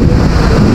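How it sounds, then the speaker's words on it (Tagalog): Thunder rumbles through heavy, pounding rain, a loud dense low roar that fills the short stretch without a break, with no voices. "Kung nakita yung kulog, grabe sobrang kulog."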